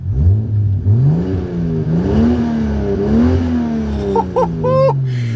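A 1993 Toyota Supra MKIV with the turbocharged 2JZ engine and manual gearbox revs loudly and up close, its pitch climbing and falling over several throttle blips, with a short burst of sharp higher revs near the end.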